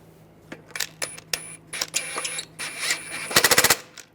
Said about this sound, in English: Take the lug bolts, get those started.